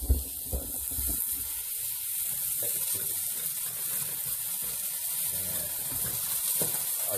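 Pieces of meat browning in a hot pan give off a steady, even sizzling hiss that holds at much the same level throughout, close up and without speech.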